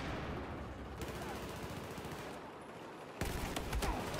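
Gunfire in the Battlefield 4 video game, a faint stretch of distant automatic fire that swells into a louder, nearer burst near the end, with players talking over it.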